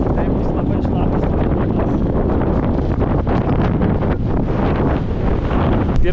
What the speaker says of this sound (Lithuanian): Vėjukas neblogas